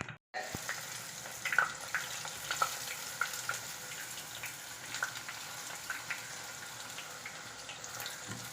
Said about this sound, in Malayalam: നമുക്ക് ഇതുപോലെ തന്നെ ബാക്കിയുള്ള സോയയും ഫ്രൈ ചെയ്തെടുക്കാം